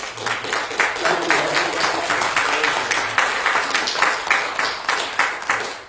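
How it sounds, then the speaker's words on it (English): A recital audience gives Randy another round of applause in a small acoustic hall, a moderate crowd clapping in a loosely pulsing rhythm, with some voices mixed in beneath the claps. "So can we just give Randy one more round of applause?"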